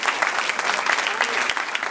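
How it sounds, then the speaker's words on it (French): An audience claps steadily at a citizens' campaign launch evening in Rezé, a dense, continuous wash of applause from a crowd in a hall. "On peut l'applaudir."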